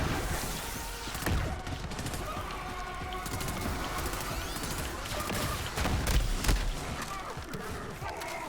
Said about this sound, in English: But for the second there, it was shooting fire.